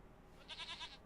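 A goat in the King's Quest video game gives a single short, wavering bleat, clear but quiet against a soft background hum.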